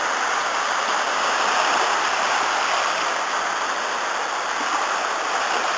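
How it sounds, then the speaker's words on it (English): Gentle surf rolls in at Harlech beach on a windless day, a continuous, even wash of breaking water heard up close with nothing else over it. "A little bit of surf, but there's no wind today"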